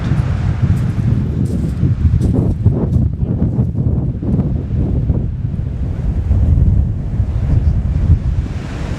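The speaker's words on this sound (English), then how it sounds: "There's a storm surge threatening and the waves are already picking up. It's very windy down here." Heavy storm surf roars continuously on the Kent coast at Sandwich while strong wind buffets the microphone, a dense, loud rumble of waves and gusts with no pauses.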